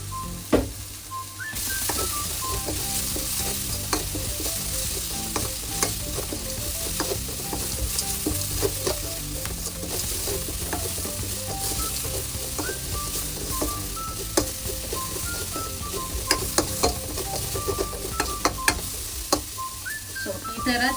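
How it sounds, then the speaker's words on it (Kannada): Masala frying in oil in a pan for lemon rice, a continuous close sizzle broken by repeated scrapes and taps of a spoon stirring through it. "ಸೊ ಈ ತರ ಚೆನ್ನಾಗಿ ಒಂದು 5 ಮಿನಿಟ್ಸ್ ಫ್ರೈ ಮಾಡ್ಕೋಬೇಕು."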